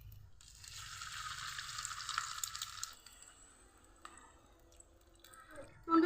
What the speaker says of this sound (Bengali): আর অল্প আঁচ দিয়ে ভেজে নিতে হবে এভাবে।